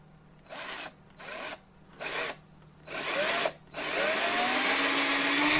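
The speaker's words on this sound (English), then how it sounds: "I'm just going to drill a hole in straight from the top" A power drill bores a hole straight down into the top of a wooden birdhouse in four short bursts, then one longer continuous run, close and loud.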